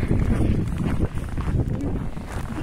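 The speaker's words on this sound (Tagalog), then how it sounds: "anong lakas ng hangin" Strong wind gusting during a snowstorm in Saskatoon, a steady low roar and buffeting across the microphone throughout.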